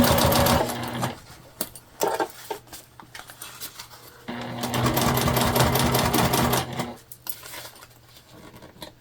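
A sewing machine stitches a double border fabric panel for a small crossbody bag, running in fast, loud bursts of rapid mechanical clatter separated by pauses with fabric handling and small clicks, no talk.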